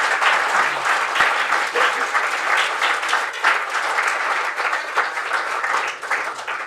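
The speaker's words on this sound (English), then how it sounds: "join me in giving a round of applause to Mo" An audience at a company product talk applauds a presenter named Mo, with dense, sustained clapping that fills the whole stretch at a steady, fairly loud level and no voices over it.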